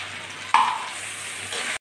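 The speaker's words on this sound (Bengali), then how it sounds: "মশলার বাটি ধুয়ে আমি একটু জলও দিয়ে দিচ্ছি।" Water splashes into a hot pan of spiced potato and green banana being fried for a rohu fish curry, a sudden loud sizzle that bursts up and then settles into a steady hiss.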